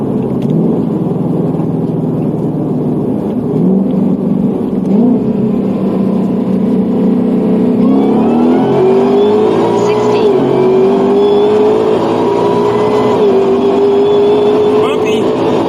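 A Ford GT500 pulls hard on asphalt during a 60-130 mph run, its engine rumble rising steadily in pitch as it climbs through the gears, loud and close throughout.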